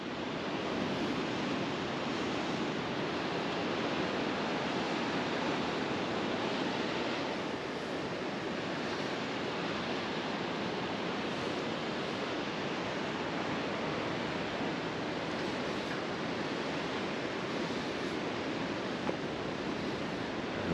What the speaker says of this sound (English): Oh man, there's some big waves coming in.